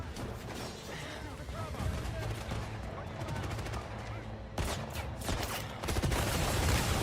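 Gunfire in the video game 007: First Light, rapid bursts and volleys with crashing and shattering impacts, loud and dense throughout, mixed with game audio.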